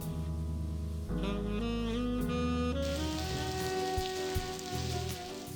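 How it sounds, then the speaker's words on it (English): Steady rain patters and hisses in the Blackwell Convergence adventure game, a soft continuous wash underneath layered sustained music tones. "And it's now raining."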